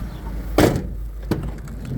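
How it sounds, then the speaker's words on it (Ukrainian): The door of a 2019 Renault Master L3H2 nine-seat passenger van shuts with one loud, close thud, followed a moment later by a softer knock, against steady outdoor background noise. "закриваються дверцята"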